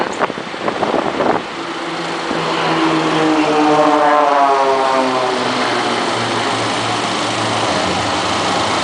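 Aircraft of the Blades aerobatic team at an RAF Benson families day air display fly in towards the crowd, their propeller engines rising to a loud, steady drone with a Doppler-like falling pitch as they pass close overhead.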